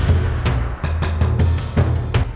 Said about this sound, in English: Deep Cinematic Percussion. Sounds like this.